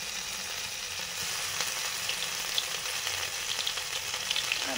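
Green chili paste fries in hot mustard oil with a steady, fairly loud close sizzle, faint crackles and soft stirring knocks running through it, with no talking.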